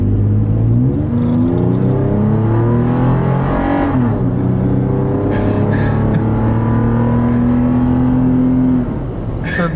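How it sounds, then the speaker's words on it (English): A Toyota 4Runner V6 at full throttle pulls out onto a road, its engine roaring loud and close as the pitch climbs through several gear shifts, with no talk over it. "let's go ahead and do a full throttle pull and just see how it feels"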